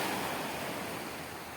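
Sea surf at the shore, a steady broadband wash of waves with a slow, even swell, loud and continuous with no talk.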